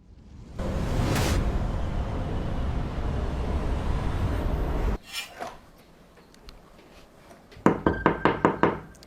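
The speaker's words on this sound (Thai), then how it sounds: "แกรู้ไหมว่าเสียงเคาะประตูเนี่ยมันน่ารำคาญ" Knocking on a door indoors: after a loud rushing noise cuts off, about six sharp, evenly spaced knocks ring out close by near the end.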